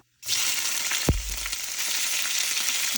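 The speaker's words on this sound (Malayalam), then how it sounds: "ഇതൊന്ന് നന്നായിട്ട് ഇളക്കി മിക്സ് ചെയ്ത് കൊടുക്കുകയാണ്" Crushed shallots and green chilies hit hot oil with a sudden loud sizzle, then keep frying in a steady bright hiss, one dull knock early on as they land in the pan.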